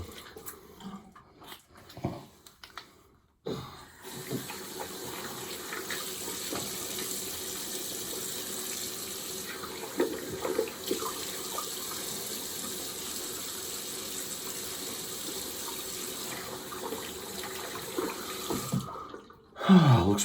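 Water from a tap runs steadily for a long stretch while a freshly shaved head is rinsed, a close, even gushing hiss that starts after a few seconds of handling noises and cuts off near the end.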